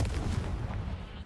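A Confringo fire spell cast in Hogwarts Legacy gives a short, booming, fiery burst with rumbling low-end impact that stays loud through its brief length.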